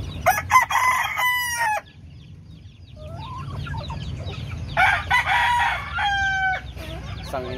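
A rooster crows twice, loud and close, with hens clucking softly in between over a low background hum, from a backyard gamecock breeding flock.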